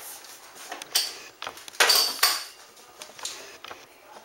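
Shaped dinner roll dough set down on a metal baking pan, giving a few scattered light knocks and clatters, a couple of them sharper, close by with no talking.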